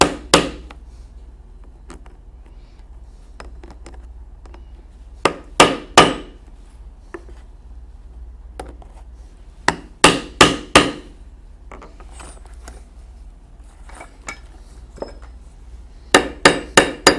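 A hammer sets a copper rivet holding a D-ring on a saddle pad, with sharp, loud strikes coming singly and in quick bursts of two or three, separated by quiet pauses.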